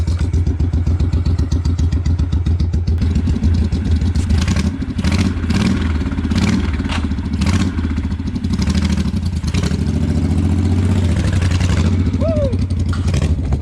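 An old Moto Guzzi V-twin motorcycle, over 50 years old and low geared, runs steadily and close by, its engine note rising in brief revs, with a person talking over it.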